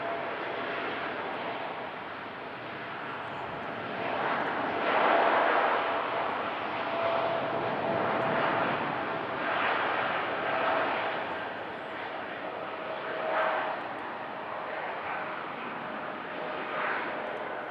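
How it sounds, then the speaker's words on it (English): Boeing Dreamliner jet rolling for takeoff at Manchester Airport, a broad steady roar that swells and eases in waves, heard from a distance with a thin whine running through it. "Dreamliner rolling."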